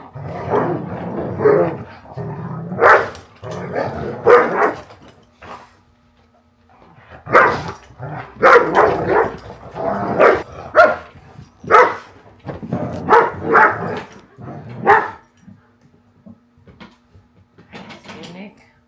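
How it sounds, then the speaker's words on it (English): Large dogs bark repeatedly in loud, deep bursts close by, with whimpers and yips between barks and brief pauses in the barking. "And to make it worse, we have 3 dogs."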